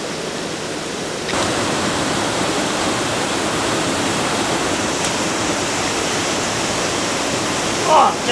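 Waterfall at Niaotakeng in Nantou, Taiwan: a steady, dense rushing roar that swells after about a second and holds evenly throughout, with a brief louder knock near the end.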